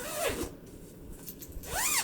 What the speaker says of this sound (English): Then I have some of the tote bags that are zipper bags.